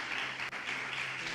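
A church congregation applauding, a steady dense wash of clapping from many hands filling the room throughout, moderately loud with no break.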